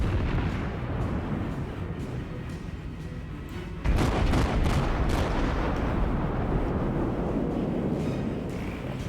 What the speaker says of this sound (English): Those are my first salvos of the game, which are going to be off.